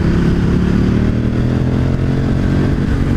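A 2018 KTM 1290 Super Duke motorcycle being ridden, its engine droning loud and steady throughout with close, continuous rumble and wind.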